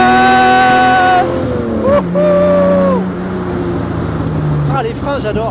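A Jaguar Type C replica's engine is held on a steady, loud drone, then rises as the throttle opens and climbs through the revs. A brief gear change comes partway through, and the engine keeps pulling hard afterward.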